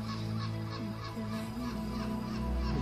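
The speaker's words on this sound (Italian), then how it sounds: "Bellissimi gabbiani" Seagulls call repeatedly at night in Rome, their harsh honking cries coming in a steady rhythm over a constant low background hum.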